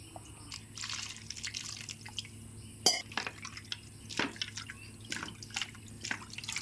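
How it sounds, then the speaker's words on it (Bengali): A ripe mango washed in water in a home kitchen, with close, intermittent splashes and drips, a sharp clink partway through, and a steady faint hum underneath. "পাকা আমটাকে আমি ভালো করে ধুয়ে নিচ্ছি।"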